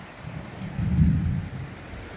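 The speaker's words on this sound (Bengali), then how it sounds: "বৃষ্টি।" Heavy rain pours steadily outside a house whose asbestos roof is leaking, with a low roll of thunder swelling and fading in the middle; the downpour is close, continuous and constant.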